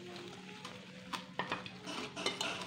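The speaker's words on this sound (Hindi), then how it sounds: "अब मैं इसे अच्छी तरीके से इसे फेंट लूंगी बेसन को" Gram flour (besan) batter being whisked in a bowl. Quick, soft scraping and slapping strokes with light clinks, fairly faint and close, and no voices.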